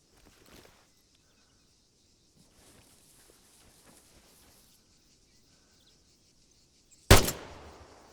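A single sharp gunshot cracks on a shooting range in the video game ArmA 3, loud and close with a short decaying tail, after a long stretch of quiet ambience with faint insect and bird sounds.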